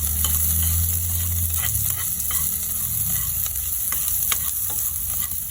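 Garlic frying in a pan, with a steady, loud sizzle and crackle throughout and occasional stirring scrapes over it.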